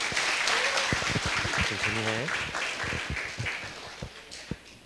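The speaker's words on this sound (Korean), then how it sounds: "큰 박수로 맞이해 주시면 고맙겠습니다" Applause from a church Christmas festival audience welcomes a child performer, many hands clapping steadily while a voice speaks over it midway, the clapping thinning into scattered claps toward the end.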